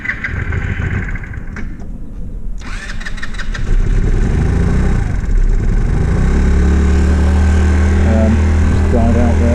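A Znen scooter engine struggling on bad fuel, cranking and catching into a steady mid-pitched running note that holds loud and close, with a voice talking over it.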